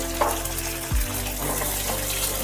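Fish pieces frying in a pan with chopped ginger and sliced tomato, a steady loud sizzle and bubbling throughout with a brief low thump partway.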